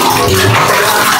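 Water rushing and gurgling as it drains from an old, twenty-year-old toilet bowl during a toilet replacement, a steady loud flow throughout with no talking.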